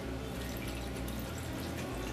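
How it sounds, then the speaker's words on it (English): Brine is poured over sliced dill pickles in a jar, a continuous close splashing, trickling pour that runs the whole time, loud and unbroken, with no talk. "And then we just add our brine."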